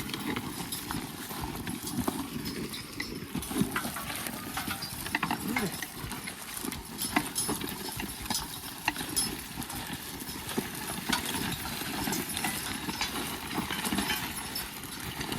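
Hooves clip-clop steadily from three horses plowing outdoors, mixed with a continuous rumbling background noise.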